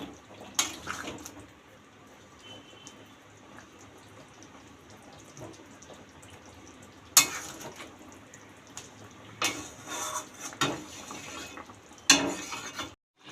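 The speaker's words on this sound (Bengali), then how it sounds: "এবার নেড়ে চেড়ে আর একটু ফুটতে দেবো, যাতে মাছটার মধ্যে তরকারির ঝোলটা ঢোকে" Stingray fish curry simmering in a pot gets stirred, with a few scattered wet scraping and splashing strokes over quiet bubbling, close by and without speech.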